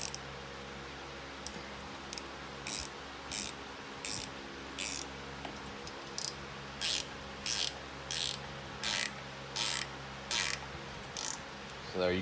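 Ratchet wrench clicking in short, evenly spaced bursts while bolts on a Vermeer SC252 are tightened in turn, close and crisp over a low steady hum; no talking.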